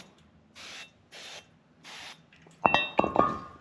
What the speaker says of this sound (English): I can just spray this a little brake clean